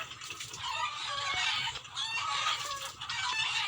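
Several chickens cluck and squawk continuously nearby in a video game, a busy, overlapping chorus of bird calls with no talking.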